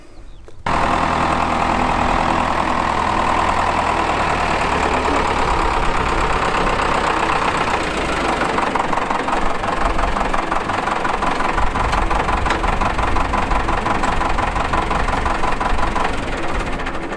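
A tractor engine idling at an air museum on a former RAF airfield runs steadily after a brief start, a loud continuous rumble with rhythmic knocking that holds even and close throughout, with no talk.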